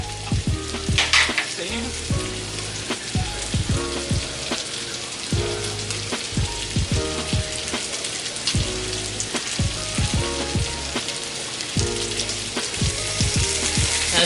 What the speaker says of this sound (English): Make sure I move that around so that it doesn't burn.